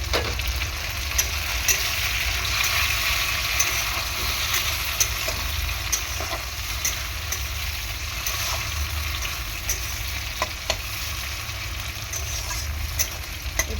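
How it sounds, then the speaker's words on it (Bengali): Steady, close sizzling of chopped tomatoes and onions frying in a pan for spicy ghugni, with broad continuous crackle and a few faint spoon taps, no voices. "এখন কুচিয়ে রাখা টমেটোগুলো দিয়ে দেবো পেঁয়াজের মধ্যে।"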